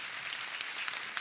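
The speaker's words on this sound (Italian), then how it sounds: "Facciamo un bel applauso." Audience applause at a Neapolitan memorial tribute, a steady dense patter of many hands clapping at moderate distance, continuous through the short moment without talk.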